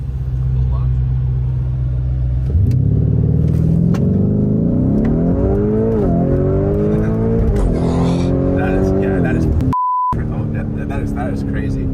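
A Lamborghini in Sport mode accelerates hard from a standstill, its engine climbing from a deep idle through a loud roar with distinct gear shifts. A short electronic beep sounds near the end.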